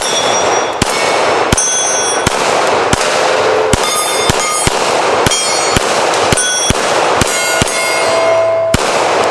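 Handgun shots ring out one after another at a shooting range, about a dozen sharp cracks spaced irregularly, several hits ringing a steel gong with a bright metallic clang and also striking a bowling pin, no voices.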